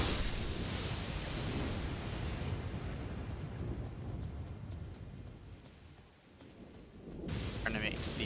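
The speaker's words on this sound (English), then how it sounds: "Trying to make the lightning stop." Thunder rumbling during a lightning storm in Elden Ring Shadow of the Erdtree, a heavy, continuous roar that swells, dips and then surges again with a crackling burst near the end.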